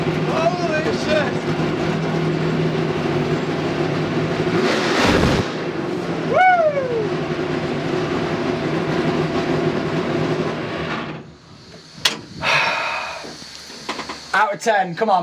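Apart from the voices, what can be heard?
NASCAR race car accelerating and changing gear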